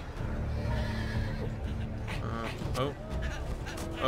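Horse neighing in the Game of Thrones video game, a whinny amid busy game sounds and a talking voice, with faint hoof-like clatter beneath.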